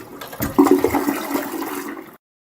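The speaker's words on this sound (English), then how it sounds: "toilet flushing" A toilet flushes close by, a loud rushing gurgle of water that peaks early, drains steadily for about two seconds, then stops abruptly into silence.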